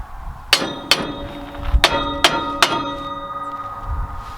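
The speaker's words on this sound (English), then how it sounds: "Try to hit this piece back." Hammer blows on a broken farm tractor part, knocking it back into place: six sharp metallic clangs with ringing tails at an uneven pace, close by.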